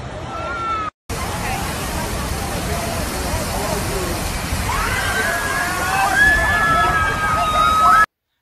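Rushing water from the Grizzly River Run river-rapids boat ride at Disney California Adventure, a steady broad roar with crowd babble mixed in, some higher whistling or squealing tones toward the end.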